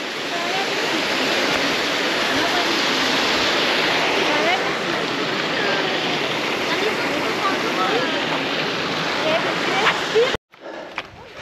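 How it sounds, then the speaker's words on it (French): Waterfall beside a stone bridge on a mountain hiking trail, a loud steady rushing roar of falling water close by that holds for about ten seconds before cutting off abruptly. "On passe un nouveau pont de pierre à côté d'une cascade, c'est très joli."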